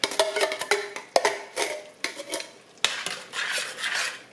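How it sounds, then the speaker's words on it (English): Crushed tomatoes tipped from a can into a pot of chili, with scattered clinks of metal against cookware and soft stirring, close and fairly quiet, no voices. "Now I'm going to put my can of crushed tomatoes in there."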